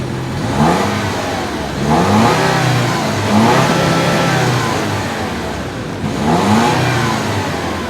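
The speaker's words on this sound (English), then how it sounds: "It has a pretty good exhaust note too." A 2015 Lexus NX F-Sport engine, with sound augmentation, revs repeatedly in loud surges, its throaty exhaust rising and falling over a constant rumble.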